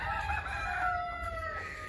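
Onagadori chickens in a breeding pen crow steadily, a long drawn-out rooster call dominating, with soft clucking and farmyard background noise around it, no talk.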